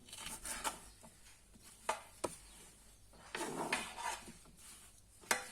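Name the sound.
cutting fava bean pods with a knife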